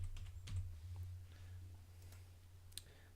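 Keys typed on a computer keyboard while entering a short phrase into a spreadsheet cell, a few quiet clicks and taps over a steady low hum.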